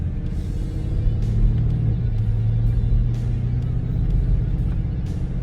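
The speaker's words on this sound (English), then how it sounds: "We cut the muffler off of this and it sounds really good." A 2006 Porsche Cayenne Turbo with its muffler cut off gives a steady, deep engine rumble that holds evenly throughout, with light ticks over the drone.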